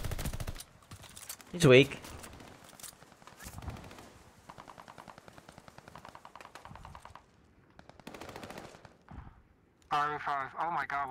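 Rapid automatic gunfire crackles in Call of Duty Vanguard ranked multiplayer in long rattling bursts with a sharper loud shot early on, while a player speaks briefly.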